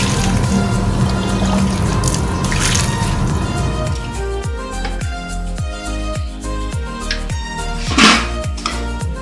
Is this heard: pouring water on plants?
yes